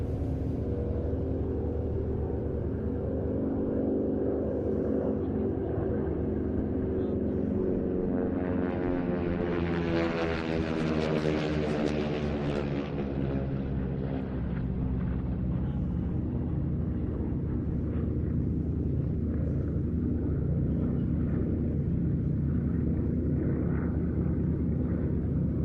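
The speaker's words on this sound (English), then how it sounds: "these two Harvards coming in for their last pass" Two piston-engined Harvard trainer aircraft make a final pass at a Duxford airshow, a droning propeller rumble that swells to a loud peak overhead mid-way, then fades into a long receding hum.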